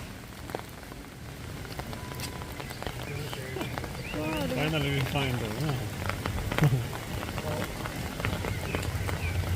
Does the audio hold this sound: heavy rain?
yes